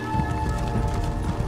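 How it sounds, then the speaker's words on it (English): Horse hooves clip-clop steadily in The Elder Scrolls Online as the player rides a horse toward Markarth. The rhythmic footfalls are moderately loud and continuous over a constant background hum. "let's get on the horse here."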